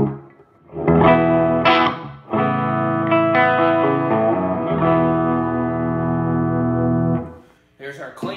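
Sustained clean electric guitar chords ring out through a Peavey Rockmaster amplifier, several strummed notes held and decaying, with a brief pause and restart near the end.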